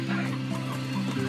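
Steady, close clucking from a rooster in Slime Rancher, a low throaty burble that continues without pause.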